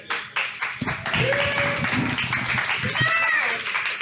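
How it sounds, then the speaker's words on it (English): A live audience applauds at a nerd-night game show event, steady clapping filling the room, with a voice speaking over it near the end. "My character, Damon Sly, thinks you're all clapping for him"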